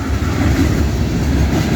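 CSX mixed freight train rolling past in Woodbine, Maryland, a loud, steady low rumble of wheels and railcars close by, unbroken for the whole stretch.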